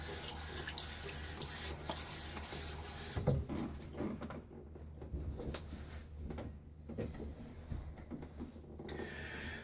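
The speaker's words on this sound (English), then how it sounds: "I'm going to throw some water on my face here." Running tap water at a sink with water splashed on a face before shaving, splashing and a few clattering handling sounds, close by, steady throughout with no talking.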